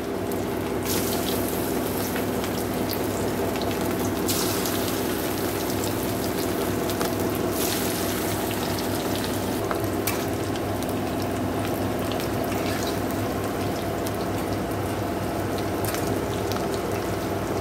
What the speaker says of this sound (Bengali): তো এবার আমি পকোড়া দিয়ে দেবো